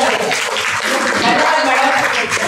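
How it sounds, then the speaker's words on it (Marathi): Audience applause for a woman honoured at a Tilgul (sesame-jaggery) ceremony, a steady, loud wash of clapping filling the room for a couple of seconds without a break. "जोरदार टाळ्या मॅडमसाठी"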